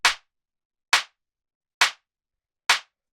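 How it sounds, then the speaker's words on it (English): Four evenly spaced dry clap hits from a dark techno track, each with a shortened sustain and quick decay, isolated against silence. "So what this is it's this clap sample."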